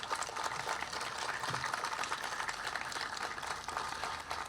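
An audience at a commemoration ceremony marking the 104th anniversary of the Miracle on the Vistula applauds, a soft, distant and steady patter of clapping that continues evenly for a few seconds.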